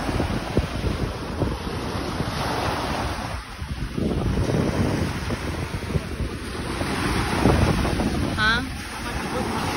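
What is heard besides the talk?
ocean waves on the shore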